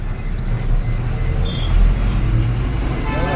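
Steady road traffic rumbles at the Andal Kuppam checkpost signal, with trucks and buses passing nearby as a continuous low roar and a brief horn-like tone in the middle.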